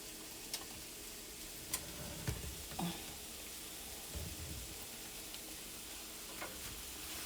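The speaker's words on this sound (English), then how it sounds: "Let's saute the onions and pepper for a few minutes." Red onion and red pepper sauté in a pan for beef liver, a faint steady sizzle with a few light ticks and stirring taps, quiet and without talking.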